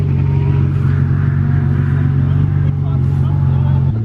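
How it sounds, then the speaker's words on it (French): A Ferrari F50 hypercar pulls away on an airport apron, its engine a steady, loud, low rumble close by, with crowd chatter faintly underneath. "La F50 qui est en train de rebouger"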